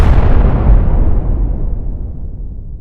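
A big explosion blows up a ship's science corner: a loud, close, booming blast that rumbles and slowly fades away over nearly three seconds, with no voices.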